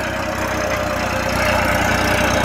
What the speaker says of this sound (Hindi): तो देख लो ये ट्रैक्टर भाइयों।